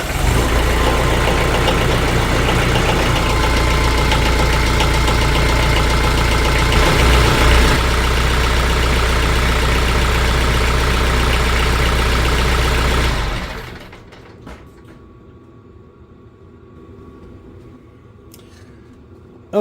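TYM T474 diesel tractor engine idling after an oil change with Shell Rotella T4 15W-40, a steady loud close rumble for about 13 seconds that then drops sharply to a much quieter low hum.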